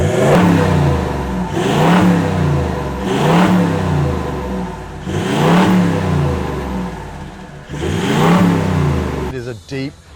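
A Toyota 76 Series Land Cruiser with a V8 engine revs hard in four or five loud, evenly spaced bursts, each one climbing and then falling back. The revs are close and deep.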